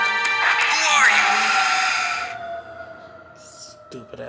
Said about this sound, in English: Stupid ass sirens.